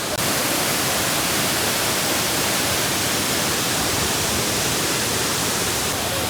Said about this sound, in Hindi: रास्ते में एक वाटरफॉल दिख गया गाइस